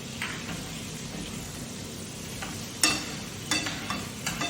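Steak fries in a pan of butter with rosemary while being basted. A steady, loud sizzle runs throughout, broken by a few brief sharper clatters near the end.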